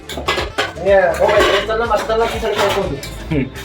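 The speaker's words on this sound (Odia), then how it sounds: "ରାକେଶ ସାର୍ ଭାତ ବାଢ଼ୁଛନ୍ତି।" Rice is served onto metal plates at a home meal, with utensils and dishes clinking and scraping in quick, close, busy bursts while people talk in the background.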